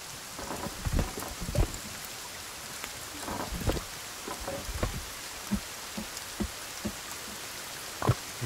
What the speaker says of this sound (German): Na klar, regnet es jetzt.